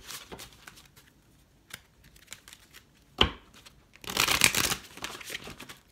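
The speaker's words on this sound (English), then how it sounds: "Give these a good shuffle." A deck of tarot cards is shuffled by hand at close range: soft scattered flicks and riffles, a sharp snap, then a dense burst of riffling cards, with no talking.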